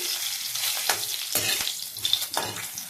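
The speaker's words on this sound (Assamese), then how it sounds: "ইয়াতে মই মাষ্টাৰ্ড অইল অলপ দি দিলোঁ। তাতে শুকান জলকীয়া 2টা পেলাই দিলোঁ।" Two dried red chillies fry in hot mustard oil in a heated wok, giving a steady close sizzle with a few crackling bursts and stirring scrapes throughout.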